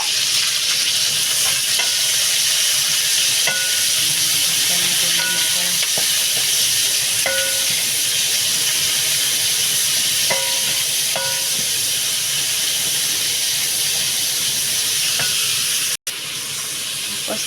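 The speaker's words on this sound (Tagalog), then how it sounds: "igisa natin ang ating mga ingredients" Ingredients for a squid dish sautéing in a hot pan give a steady, loud crackling sizzle throughout, broken by faint scraping and clinking of a utensil stirring, with no one speaking.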